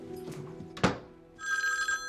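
A telephone rings with a bright, sustained electronic trill near the end, after a dull thunk, with no talk over it.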